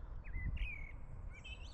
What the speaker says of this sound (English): That's an actual blackbird.